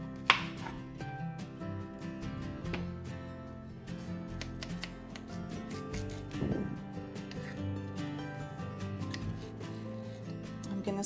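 A knife chopping on a cutting board, sharp repeated taps in an uneven rhythm, close up, with some background music.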